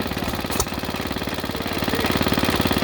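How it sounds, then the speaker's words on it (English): A Briggs & Stratton WMB hit-and-miss engine mounted on a small pump chugs steadily at an antique tractor club show, giving off a close, rhythmic, even firing beat with one sharp clack near the start. "It is a Briggs. It is a Briggs WMB. He's got it mounted on this little pump."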